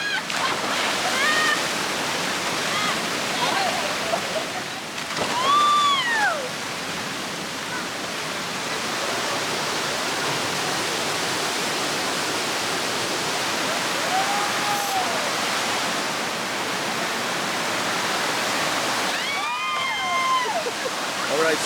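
Rushing water at the Blue Hole falls in Ocho Rios, Jamaica, a loud continuous roar holding steady throughout, with people's voices and a few shouts rising briefly above it.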